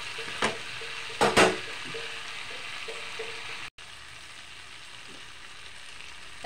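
Food fries well in a pan for a dried-fish recipe, giving a soft continuous sizzle with a few sharp clinks and scrapes of stirring early on, then a quieter, even hiss.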